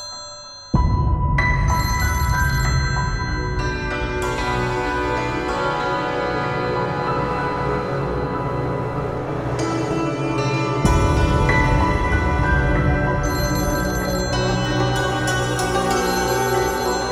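A phone goes unanswered while its melodic electronic ringtone keeps sounding, loud and close. The ringing repeats in steady cycles over a dense, continuous tonal backdrop.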